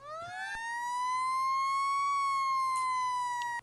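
A model rescue truck plays its third siren tone, a steady bright electronic note that rises slightly, holds level and cuts off abruptly, loud and close with no speech.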